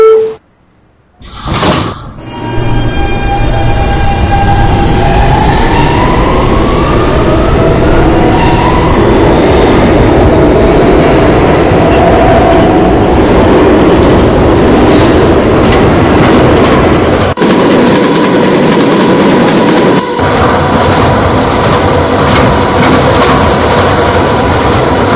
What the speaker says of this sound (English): This is a Potatoburg-bound F local train.